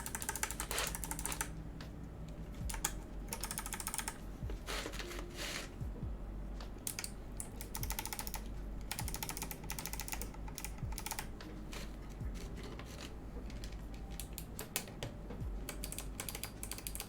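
A KBDFANS Tofu60 mechanical keyboard in an acrylic case, fitted with box-shaped keycaps, is typed on steadily and quickly. Dense, close clacks run without pause, with no voices over them.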